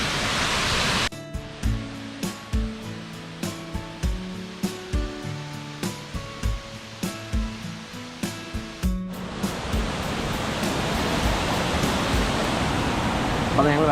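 Steady roar of a waterfall at a resort in Wayanad, Kerala, loud and close at the start, giving way to a stretch of rhythmic music before the broadband rush of falling water returns and fills the final seconds.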